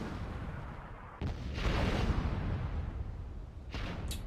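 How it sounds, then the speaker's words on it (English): Grenades detonate after an airstrike in a video game, a muffled distant boom rolling into sustained rumbling blasts, with another sharp burst near the end and no talk. "Airstrike definitely cooking off some of these grenades."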